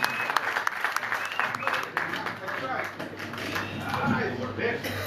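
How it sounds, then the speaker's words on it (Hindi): Audience applause at an event, a sustained wash of many hands clapping at steady loudness, with a voice over a PA system running beneath it. "इनके लिए भी जोरदार तालियां।"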